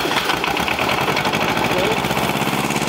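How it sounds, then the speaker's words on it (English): An air compressor runs in a workshop where an engine mount is being remade for a 1966 Reo truck, a steady loud mechanical drone with a rapid pulsing chug, with talk in the background. "Line up our compressor. Put some real power to it."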